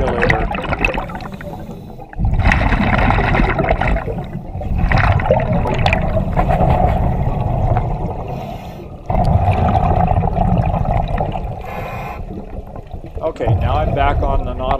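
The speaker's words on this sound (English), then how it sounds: "the bubbles are coming up beside the camera instead of behind me off the Nautilus" A Dacor Nautilus double-hose scuba regulator vents bubbles underwater in repeated loud, gurgling bursts alternating with quieter pauses in a breathing rhythm.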